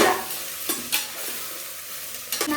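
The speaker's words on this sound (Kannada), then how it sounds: "ಮೊಳಕೆ ಕಾಳನ್ನ ಚೆನ್ನಾಗಿ ಹಾಕಿ ಚೆನ್ನಾಗಿ ಅದು ಬೇಯೋದಿಟ್ಬಿಡಿ" Sprouted legumes cooking in a pan, a soft steady sizzle broken by several sharp scrapes and clinks of stirring, fairly quiet and close, with no talking.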